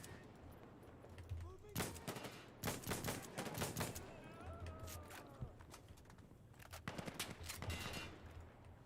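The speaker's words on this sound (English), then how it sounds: "Sexy sounding gun." Heavy gunfire from a big rifle in the shooter game Insurgency Sandstorm, a series of loud booming shots in short bursts over steady background game noise, with a voice faintly heard in places.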